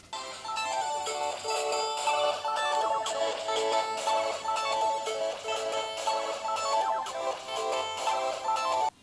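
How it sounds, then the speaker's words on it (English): Teenage Engineering PO-20 Pocket Operator playing a chord drone: bright, sustained synth chords with shifting tones and steady pulsing accents, close and loud, cutting off abruptly at the end. "You also have a chord function that you can activate pushing the chord and the knob here,"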